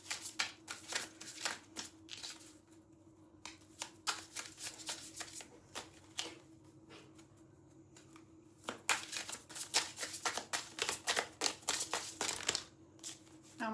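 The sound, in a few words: shuffling tarot cards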